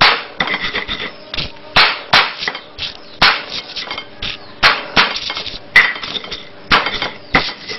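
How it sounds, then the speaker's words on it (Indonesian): Salt and shallots pounded with a pestle, bruised rather than ground fine, in a steady run of loud, close, sharp thuds, roughly one or two per second, each with a brief woody, clinking ring. "kita tumbuk garam dan bawangnya, hanya kita kecak aja, kita memarkan aja, tidak sampai halus"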